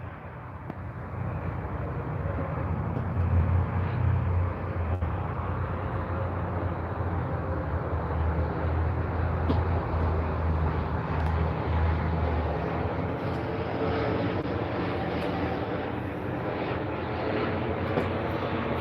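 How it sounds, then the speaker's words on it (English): A helicopter approaches and passes overhead, its engine drone rising into a loud, steady rumble that lasts the whole stretch with no voices. "There's a helicopter coming in. I can hear it."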